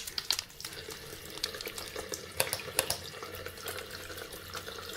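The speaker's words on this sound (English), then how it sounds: "Wet your hands under warm running water and add soap." Warm tap water runs steadily as hands are washed with soap, with soft splashing and faint scattered rubbing, quiet and close.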